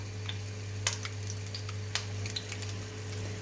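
Soft, steady sizzling of meat patties frying in a pan, with scattered small pops and clicks over a constant low hum.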